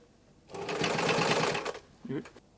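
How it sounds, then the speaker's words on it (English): A sewing machine stitches forward and back along a trouser seam while taking in the legs. It gives one loud, steady whirring run of over a second, followed by a brief, softer sound. "I'm going to start with the classic forward and back sewing motion"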